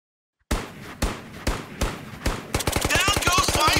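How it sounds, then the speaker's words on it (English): Gunfire in the Ghosts of Tabor VR video game: four loud single shots about half a second apart, then a fast automatic burst that keeps going to the end. "He saw you immediately and began firing."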